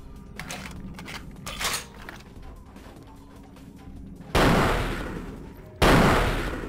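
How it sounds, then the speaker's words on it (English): Two loud, sharp sniper rifle shots ring out close by in the video game Vampire the Masquerade Bloodlines, each followed by a decaying roar, after quieter scattered clicks and thuds. "Sniper rifle, why?"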